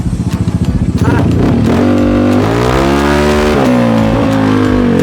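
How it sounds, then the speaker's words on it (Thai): A Yamaha XMAX scooter on E85 fuel idles with a rapid putter, then revs up loudly through a throaty, raspy genuine Atom aftermarket exhaust, rising and falling, with people talking nearby. "ขอฟังเสียงก่อนเลยท่ออะตอมแท้นะครับ"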